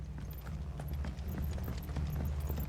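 Horse hooves clip-clopping in the video game Final Fantasy XVI, a steady walking rhythm of hoof strikes over a low rumbling backdrop.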